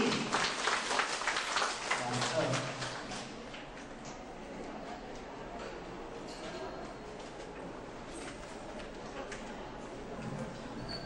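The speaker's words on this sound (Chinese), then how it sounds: "掌声鼓励" Applause from a lecture audience welcoming a speaker, loud at first and then settling into steadier, lighter clapping with voices murmuring underneath.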